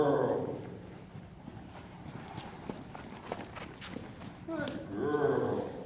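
Hooves of a young, formerly wild mare clip-clop at a walk across the footing of an indoor arena, a steady soft rhythm close by, with a voice talking over the start and end.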